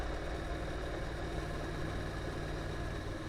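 A Honda NC motorcycle engine with a DCT gearbox runs steadily at a low, even rumble, sounding like an idle or light cruise with no clear changes in pitch.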